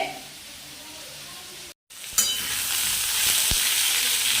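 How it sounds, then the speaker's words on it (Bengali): Vegetables frying in a home kitchen pan, with cauliflower and fish cooking for a Bengali meal, give a steady close sizzle and stirring. After a brief cut the hiss returns louder and unbroken. "ভাজাটা মোটামুটি হয়েছে আর একটু হবে"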